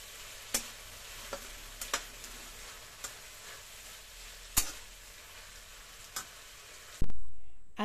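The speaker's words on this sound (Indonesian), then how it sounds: "akhir sekali saya masukkan ikan bilis gorengnya" Sambal with eggplant and petai sizzles steadily in a pan as fried anchovies are stirred in, a spoon scraping and clinking in several sharp strokes, ending with a louder clatter; close, no talking.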